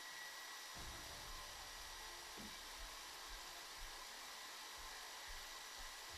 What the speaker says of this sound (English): You don't have to use an electric mixer, but because of the amount of beers that I brew, I tend to use one